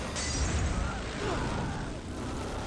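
A large explosion in the zombie video game Dead Rising 3 gives a heavy, roaring burst that fills the short stretch and rumbles on without fading.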